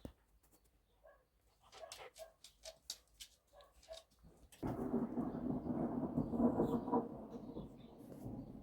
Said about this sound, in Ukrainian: Грім гримить.